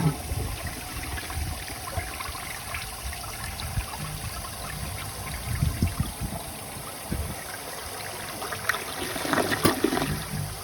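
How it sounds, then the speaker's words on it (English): A 1953 Gerber Arlington toilet flushes with a steady rushing swirl of water, close and continuous, sustained for about ten seconds and rising slightly near the end. "Just flush this out of there."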